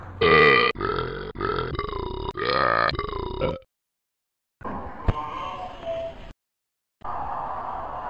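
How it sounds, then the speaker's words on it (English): A series of loud, drawn-out burps, several in quick succession and then two more after pauses, each long and strongly voiced, close to the microphone. "I'm always burping."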